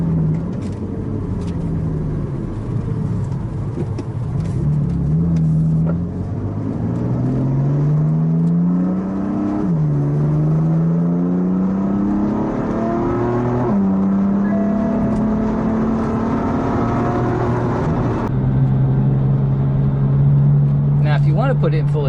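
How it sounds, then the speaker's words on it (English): A 2016 BMW M4 engine revs loudly and close, pitch climbing again and again through several surges before settling into a steady idle hum. "you can hear the engine rev"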